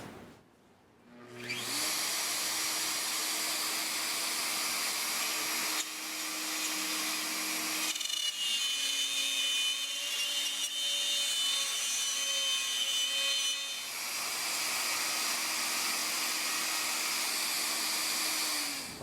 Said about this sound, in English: So next I'll set up to make my cut in the walnut.